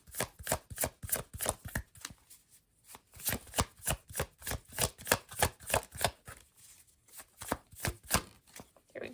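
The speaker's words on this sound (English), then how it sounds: "Shuffling." A deck of oracle cards is shuffled by hand in close, crisp bursts of riffling and flicking, repeated rhythmically with short pauses between passes, quiet and alone.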